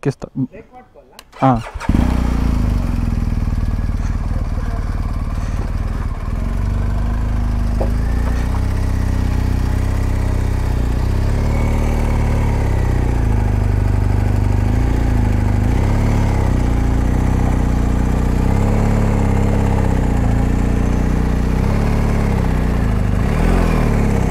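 A BMW GSA motorcycle engine starts after a brief rustle, then idles and revs steadily with a deep, loud rumble as the bike is ridden up onto a Hilux truck, with people talking over it.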